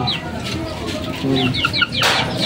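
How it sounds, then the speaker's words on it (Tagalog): Newly hatched chicks peep in high, quick chirps among clucking chickens at a backyard gamefowl breeding yard, close and fairly loud with soft rustling. "Yan, yung bagong sisiw yan."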